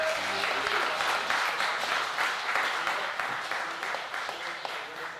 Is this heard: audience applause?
yes